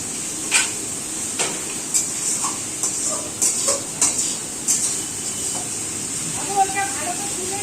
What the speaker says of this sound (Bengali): এই জন্য উনি ভালো করে মশলাটা কষিয়ে নিচ্ছে।